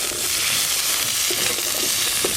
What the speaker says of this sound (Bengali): তাই আলুগুলো প্রথমে ভেজে নেব।